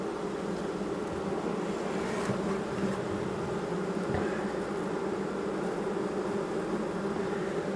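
A dense, continuous buzz of many honeybees hums steadily at close range at the hive, with no pauses and no talking.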